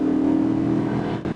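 A car keeps driving during a police pursuit, a steady mid-pitched engine hum that holds evenly and dips slightly near the end, brief and without talk.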